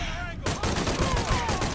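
Assault rifle fire in Shadow of the Tomb Raider, a dense burst of loud gunshots amid game ambience and effects over the whole short stretch.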